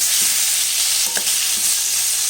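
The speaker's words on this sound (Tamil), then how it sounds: "இப்போ இந்த தக்காளி வந்து நல்லா வதங்கணும்" Chopped tomatoes sauté in a hot pan for tomato rice, giving a loud, steady hiss of frying with a few faint stirring scrapes, close by and continuous.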